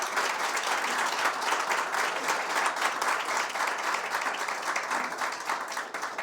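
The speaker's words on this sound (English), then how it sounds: "You can clap for that." An audience at a health institution event claps in a sustained, dense burst of applause, loud and even from start to finish with no talking over it.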